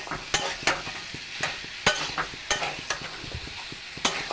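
Fried soybeans are stirred into potato curry frying in a pan, with repeated sharp scraping clicks of the spoon over a soft, steady sizzle, close and fairly quiet.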